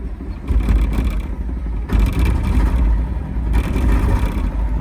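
Small single-cylinder engine of a 1957 BMW Isetta microcar running close by, a loud rough rumble with uneven bursts and surges of revving.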